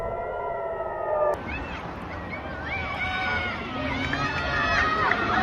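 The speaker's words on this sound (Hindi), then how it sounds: "इजराइल में एयर अटैक का अलर्ट काफी पहले मिल जाता है। सायरन बजने लगते हैं" Air raid alert sirens sound in Israel as steady wailing tones that shift and bend in pitch, heard over a dense, noisy background with what seem to be crowd voices.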